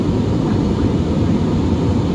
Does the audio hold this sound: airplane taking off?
yes